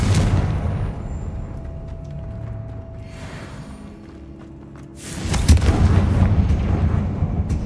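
A Confringo blasting spell in the Hogwarts Legacy video game erupts in a heavy booming blast with crackling debris, following quieter mechanical rumbling and a fading whoosh.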